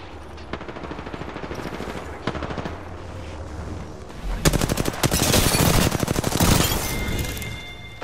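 Rapid automatic gunfire in the battle-royale shooter Apex Legends, a dense burst of loud shots after a few isolated cracks over steady game ambience, fading out near the end.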